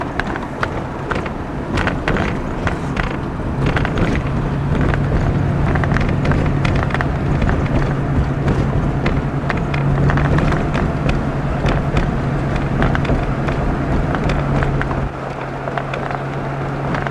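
A car drives down the side of an old volcano, its engine a steady low drone under heavy road and wind rumble, loud and close throughout, with scattered knocks and bumps.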